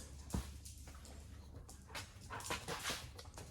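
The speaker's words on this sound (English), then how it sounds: "There's my dog." A dog in a home garage workshop gives faint whimpers and soft yips at a distance, over a steady low background hum, with no talking.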